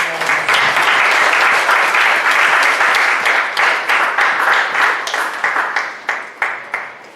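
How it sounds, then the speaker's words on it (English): A room of Rotary club members applauding their newly installed president and board, loud continuous clapping that thins into a few separate claps at the end. "Let's give them a round of applause"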